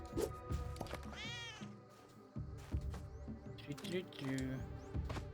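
A cat meows in the Spelunky 2 video game, a few short rising cries amid game music and effects, with a voice talking over much of it.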